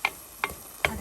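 Squid stir-fry being stirred in a pan: three sharp, evenly spaced scraping clicks of a utensil against the pan over a soft background sizzle, close and quiet, no talking.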